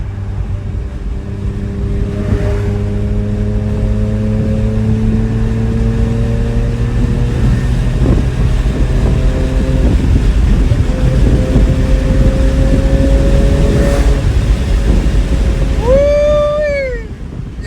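BMW E46 M3 engine under way, a sustained droning roar with rising and falling pitch as it accelerates and shifts through gears, loud and close throughout, ending in a sharp high rev sweep before easing off.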